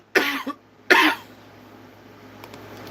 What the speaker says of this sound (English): Why don't I cough a little bit more?